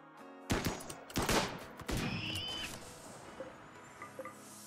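Enemy gunfire in RimWorld during a military expedition, three sharp shots spaced about a second apart followed by a lingering tail and a few faint clinks, fairly quiet overall.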